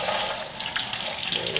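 Plastic model miniatures are rinsed under running tap water after being cleaned with toothpaste, a steady close water hiss with small splashes and bumps throughout.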